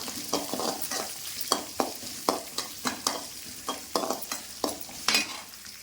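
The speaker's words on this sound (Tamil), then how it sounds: "பெரிய வெங்காயம் போட்டு கொஞ்சம் வதக்குவோம் லைட்டாக" Sliced large onions sauté lightly in a pan for a lentil-sprout curry, with a soft steady sizzle and a string of sharp spoon scrapes and stirring clinks at an uneven, quick pace.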